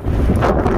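Strong gusting wind buffets the microphone on a mountain ridge facing the Pyrenees, a dense, loud low rumble filling the whole brief moment.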